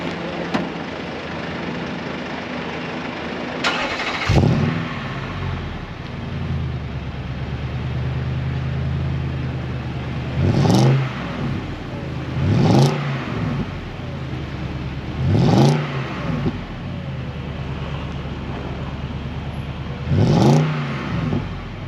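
A car engine on a cold start settles into a steady idle, broken by a handful of sharp throttle blips spaced a few seconds apart, loud and close.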